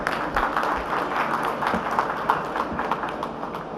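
A crowd applauds at the inauguration of a large EV expo in Karnataka, with dense, sustained clapping that holds steady and fairly loud throughout, with no pauses.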